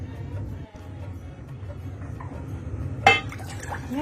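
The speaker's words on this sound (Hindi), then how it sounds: "2 कप पानी द देलिए।" Two cups of water go into a pan for jalebi sugar syrup, a soft, low pour followed by one sharp metallic clink near the end.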